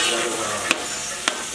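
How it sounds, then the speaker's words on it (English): Guyanese-style curry frying in a pot on the stove, a steady close sizzle broken by two sharp spoon knocks against the pot. "Just let it fry a little."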